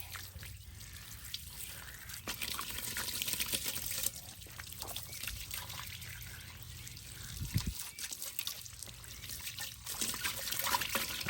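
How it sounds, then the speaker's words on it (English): Water splashing and trickling over an old wheel as cleaner is rinsed off, a steady close spray with uneven dribbling and surges, no voices. "let me rinse it off."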